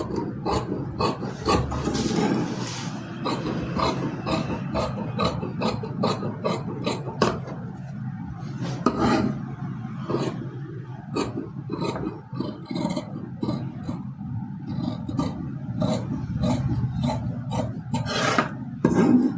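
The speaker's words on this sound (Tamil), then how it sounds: "பேக் பீஸ் வந்து கட் பண்ண போகிறேன்." Scissors cutting the back piece of a princess-cut blouse from fabric on a table, repeated rasping snips and rubbing scrapes in a steady irregular rhythm, close and fairly loud, with no talk.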